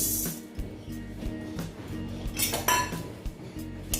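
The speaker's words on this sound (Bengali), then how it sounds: "দেখো মুগ ডালটা আমি শুকনা খোলাতে ভেজে নিচ্ছি" Moong dal dry-roasting in an empty kadai, grains rattling and a utensil scraping and clinking against the metal pan in quick, uneven strokes, close and without speech.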